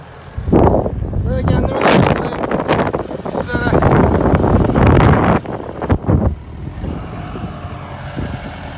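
A Case 75 tractor working a field while sowing sunflower seeds, its engine droning steadily under heavy wind buffeting on the microphone, with someone speaking over the noise.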